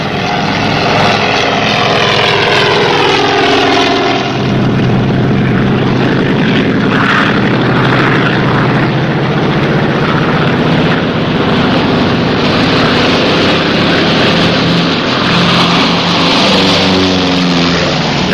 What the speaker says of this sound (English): The seaplane took off in a great hurry, leaving the two divers behind.